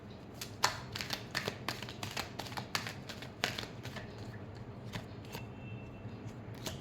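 Tarot cards being shuffled by hand, a dense run of crisp riffling clicks and flicks in quick irregular bursts, close up and fairly quiet with no voices.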